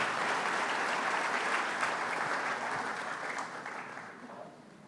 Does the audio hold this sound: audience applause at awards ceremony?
yes